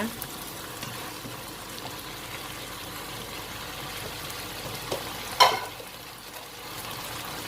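Beef stir-fried with Italian chili and curry paste gives a steady low sizzle and frying hiss throughout, with one brief louder clatter of stirring near the end.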